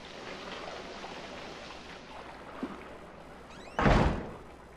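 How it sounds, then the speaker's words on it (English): Door slamming in the horror video game Outlast: a quiet ambient stretch, a faint thump midway, then one loud heavy slam near the end that rings out and fades. "you're going around slamming fucking doors"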